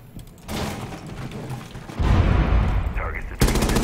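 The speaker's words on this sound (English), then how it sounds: "I was shooting at the guy that walked right in front of you." Gunfire in Rainbow Six Siege on the Hereford Base map, a dense stretch of rapid automatic shots that grows louder midway, with a sharp loud burst near the end and a voice talking over it.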